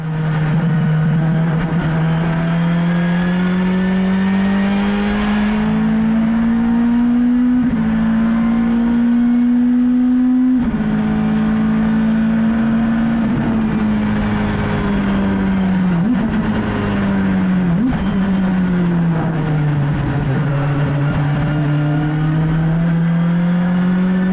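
A 1996 Honda Accord touring car's engine revs hard and continuously, its pitch climbing and dipping through gear changes as it drives on a track, loud and close with no talk.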